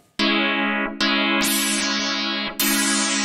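An FM feedback synthesizer patch played in HALion 7, a harsh buzzing sustained tone struck four times in a row, each note starting sharply and holding loud and bright with no talking.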